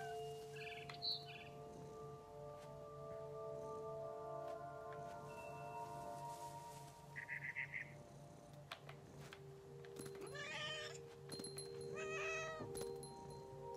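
Meows and caterwauling from a cat in the video game What Remains of Edith Finch, heard over a quiet game ambience with birdlike chirps and other soft sounds. The cat calls are short and come in separate bursts, with no speech.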